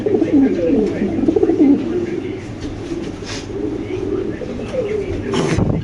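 Lahori pigeons coo in low, throaty repeated calls close by, with a voice talking intermittently and a few sharp clicks and rustles.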